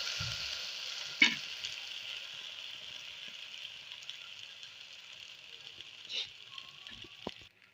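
Bread slice soaked in egg frying in ghee over very low heat, giving a steady soft sizzle that carries through, with a couple of brief clinks and taps from a utensil along the way.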